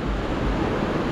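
River water near Manu Temple in Old Manali rushing in a steady, loud, broadband roar, close by and without pause.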